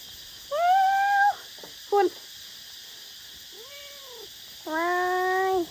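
Kittens and a mother cat meow at a rubber plantation, four separate calls of varying length, two long and steady, one very short, one arching, heard close over a faint steady background hum.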